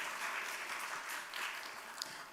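Steady applause from a church congregation at a Sunday service award ceremony fills the whole stretch, even and sustained, with no talking over it.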